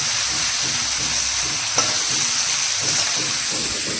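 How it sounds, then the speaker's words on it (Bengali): Steady frying sizzle of partly steamed vegetables in hot oil, close and continuous, with soft stirring scrapes and one brief sharp tick near the middle. "এখন হালকা আছে ভেজে নেব তাহলেই হবে"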